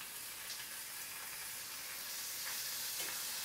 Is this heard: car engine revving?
no